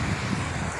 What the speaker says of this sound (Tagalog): Lagi ng dagat kay lakas ang alon.